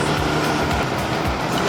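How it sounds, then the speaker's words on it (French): Dense road traffic in Thailand near roadworks, a loud continuous roar of engines and tyres with passing vehicles blending into a steady rumble. "La circulation commence à se densifier."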